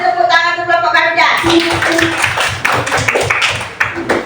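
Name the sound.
group clapping for a classroom group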